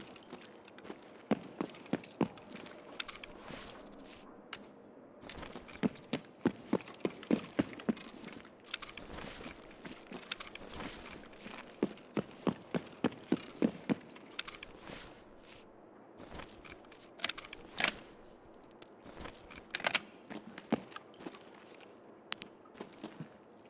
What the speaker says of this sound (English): Now I heard that footstep outside.